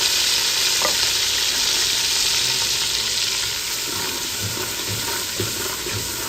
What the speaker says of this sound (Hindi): अभी जो है ना हम प्याज ऐड कर रहे हैं।